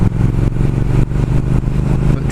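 A 2019 Triumph Speed Twin motorcycle engine runs loud and close, a steady throbbing mid-low rumble with rhythmic pulsing and no clear change in revs.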